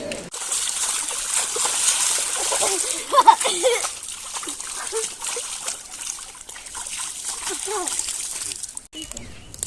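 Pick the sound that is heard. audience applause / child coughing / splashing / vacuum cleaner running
splashing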